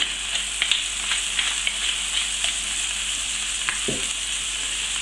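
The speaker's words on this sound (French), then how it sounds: "Et je vais les faire colorer pendant quelques minutes, le temps qu'ils aient une bonne couleur et qu'ils cuisent." Chicken ballotines stuffed with poultry liver brown in a hot pan, a steady loud sizzle with small pops and crackles running throughout.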